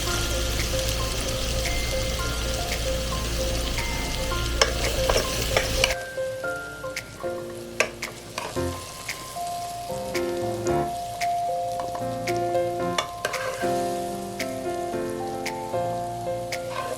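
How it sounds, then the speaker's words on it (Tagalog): Food sizzles and crackles in a hot pan as sautéing begins for chicken à la king, a dense frying hiss at first that gives way to sparser pops and stirring clatter over background music. "Umpisa na natin maggisa."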